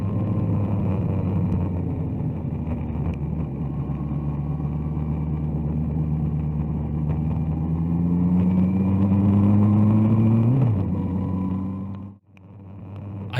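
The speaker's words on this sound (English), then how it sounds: "so I decided to give him just a little rev bomb as I rode past." A motorbike engine revs hard while riding past, a loud steady rumble that climbs in pitch over several seconds before cutting off abruptly near the end.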